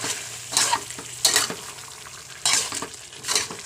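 Boiled white gourd stir-fried with beef, with bursts of scraping and tossing over a soft sizzle, coming in uneven strokes close by.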